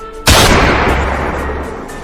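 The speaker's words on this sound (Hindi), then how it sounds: "यार, गोली क्या चल गई?" A single loud gunshot goes off abruptly, followed by a long booming echo that slowly fades away.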